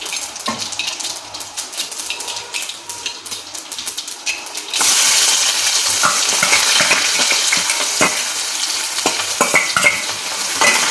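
Onion and tomato go into hot oil in a kadhai already crackling with mustard seeds and cumin. Gentle frying and stirring clinks jump to a loud, steady sizzle partway through, while the spoon keeps scraping and tapping the pan.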